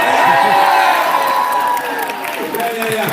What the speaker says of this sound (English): Let's get an applause break on that.